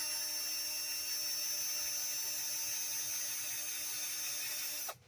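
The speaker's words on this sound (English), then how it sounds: "when you're drilling the pipe head, you're going to want to come in at an angle" A high, whining drill runs steadily and loudly, boring at an angle into a wooden tobacco pipe bowl, then abruptly stops near the end.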